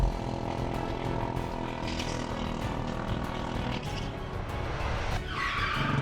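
Go-kart racing around a track in Singapore, the kart engine droning loud and steady close by for the whole stretch, with a sharper rising whine coming in near the end.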